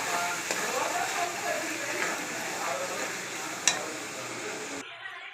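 Ground masala paste sautéing in a pan for chicken kulambu, a steady close sizzle and stirring scrape with one sharp clink near the end before it cuts off.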